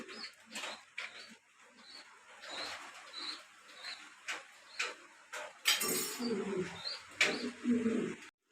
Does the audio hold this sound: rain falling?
no